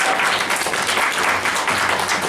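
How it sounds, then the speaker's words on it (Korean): Audience members at a stage greeting for actor Lee Seong-yong applaud together, a loud, close, continuous clatter of hands with slight swells in intensity. "이렇게 박수 한번 주실게요"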